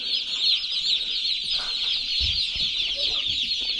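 A full brooder of a thousand broiler chickens fills the space with dense, constant clucking and peeping, loud and close, no talk over it.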